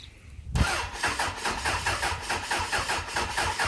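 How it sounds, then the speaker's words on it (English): Suzuki Bandit 600 motorcycle with an old starter motor and cable cranking the engine, a sudden loud start into a steady slow, low rhythmic churn, close and continuous. "I'm just going to start my bike just to see the difference of it cranking over with the old cable and the old starter motor"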